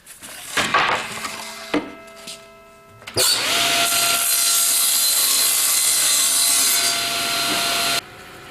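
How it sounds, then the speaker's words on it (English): A power saw slices through plywood for a bee escape jig: a sustained, loud bright whine runs from about three seconds to eight, after quieter bumps and a short tool start earlier, then drops off abruptly near the end. "Okay, let's cut our plywood next."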